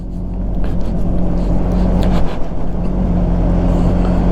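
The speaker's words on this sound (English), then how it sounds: "I love the smoothness of the engine." A 2021 Polaris Ranger 1000 engine drones steadily while driving along a trail, a smooth, continuous low rumble with a faint whir above it, holding an even level throughout with no voices.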